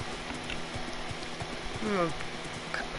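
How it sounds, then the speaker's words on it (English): Horse galloping in Minecraft, a steady rapid clip-clop of hooves with a brief whinny, heard under a person talking. "This horse is fast."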